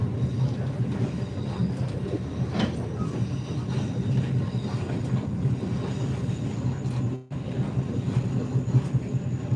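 The Overland passenger train rolls along the rails in a constant, moderately loud rumble of wheels and carriage noise, with a brief dropout partway through.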